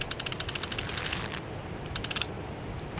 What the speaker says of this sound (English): But you just gotta crank it and crank it